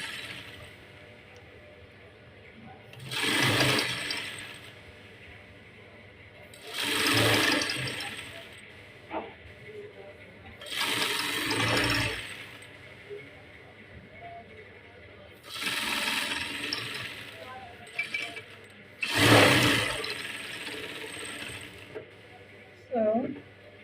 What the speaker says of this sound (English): So you just follow the markings and keep sewing till you get to the other end.